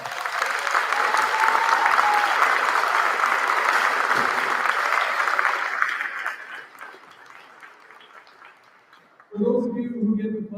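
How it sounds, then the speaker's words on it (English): Loud audience applause at a school Christmas concert, a full, dense wash of clapping that fades out over several seconds before a voice begins speaking. "So how about a round of applause for Mr. Conrad?"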